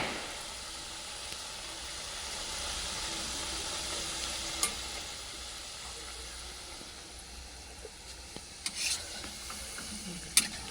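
Potato snacks deep frying in hot oil, a soft continuous hiss and bubble heard quietly from close by, with a few faint clicks and clatters near the end and no talking.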